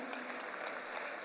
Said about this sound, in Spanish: Pido un fuerte aplauso para estos hombres y mujeres que hemos tenido